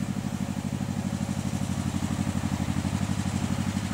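Steady, rhythmic chugging of a vehicle engine bringing a load of firewood along a rural road, loud and continuous without speech.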